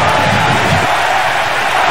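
Virtual football stadium crowd in the PS2 game Bomba Patch for a Brazilian league match, a loud, dense roar of cheering fans filling the whole stretch continuously.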